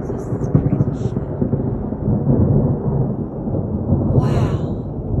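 Thunder from a bad thunderstorm with lightning rolls as a loud, continuous low rumble outdoors, building and surging over several seconds, with faint higher hiss from wind or rain on top.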